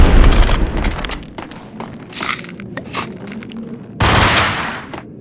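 Police gunfire in Max Payne: rapid volleys of loud gunshots and heavy thuds, with scraping and clattering between bursts and a final big blast near the end.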